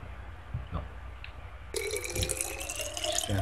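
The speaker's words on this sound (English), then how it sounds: "Now we're gonna take this and fill that with water." In the video game Gray Matter HD, water pours into a container, starting faintly with small drips and then switching to a steady bright splashing fill halfway through, close and moderately loud.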